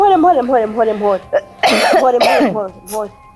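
A woman coughs several times in a short, harsh burst in a Rwandan or Burundian drama scene, heard close and loud, with speech around it.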